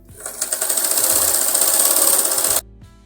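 A sewing machine runs a continuous burst of rapid stitching on a kurti's double seam, loud and close for about two and a half seconds, then stops abruptly.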